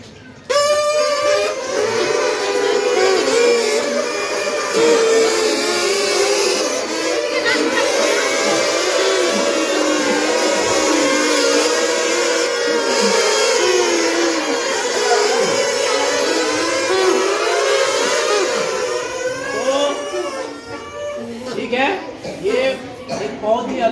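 Many shrill, wavering reedy tones sounding at once from a group playing plastic straw flutes, loud and continuous, with chatter and laughter mixed in.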